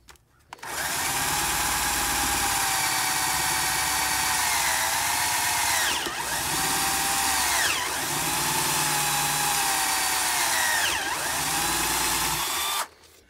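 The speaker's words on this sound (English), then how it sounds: "I'm going to drill 5/8 of an inch deep" A power drill whines loudly and continuously, boring a hole 5/8 inch deep, its pitch dipping briefly a few times as the bit bites in, then stopping abruptly.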